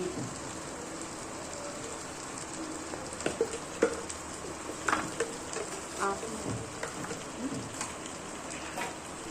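Raw cleaned prawns sizzling in a pan of fried ginger garlic paste, a soft continuous crackle and hiss with scattered small pops, fairly quiet and steady throughout with no talking.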